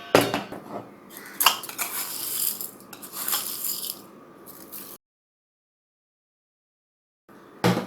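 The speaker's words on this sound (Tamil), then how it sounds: "அதுக்கப்புறம் இதை நல்லா கிளறி விட்டுக்கலாம். அப்போ தான் உப்பு கரையும்." A metal spoon stirs coarse rock salt into thick curd, producing scraping and clinking against the bowl for several seconds, then silence, then a short clatter at the end.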